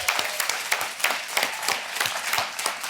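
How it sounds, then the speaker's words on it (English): A keynote audience applauds award winners, a broad, continuous wash of many hands clapping at once, steady and fairly loud throughout. "a special round of applause for our North America winners"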